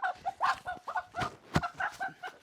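Free-range village hens cluck in quick, uneven bursts nearby at their egg-laying nests on a poultry farm, a steady flurry of short calls with one sharp knock in the middle.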